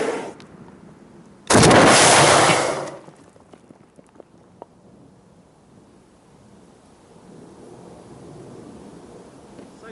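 An explosion set off on site: one loud, sudden blast roars for about a second and a half and then cuts off, leaving faint scattered debris and quiet outdoor ambience.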